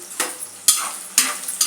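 A spatula scrapes through a pan while curry leaves and dried chilies sauté, giving four quick stirring strokes over a faint sizzle.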